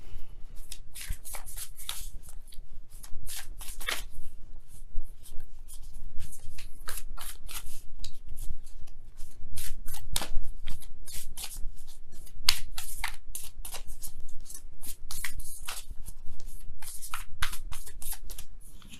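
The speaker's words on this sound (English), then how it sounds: "let me go ahead and really shuffle." A deck of tarot cards being shuffled by hand at close range, a continuous run of quick riffling and snapping card flicks with steady irregular rhythm, no talking.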